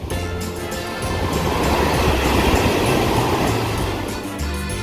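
Pacific surf rolling onto Zipolite beach on the Oaxaca coast of Mexico, a steady loud wash of breaking waves that swells and recedes, broad and continuous with no voices.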